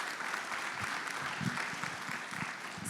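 Audience applause for a panel at a small business funding session, a sustained, fairly even patter of many hands clapping, moderately distant and without clear voices.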